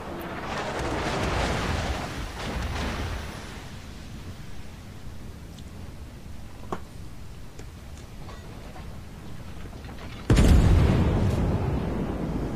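Battleship turret guns firing in World of Warships, deep rumbling blasts that roll off into a long low wash, a sharp crack midway and another heavy boom near the end, loud and without talk.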